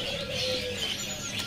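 A red mantenan bird calling at a bird market, soft cooing and chirping notes that sound faint and a little distant against market background noise.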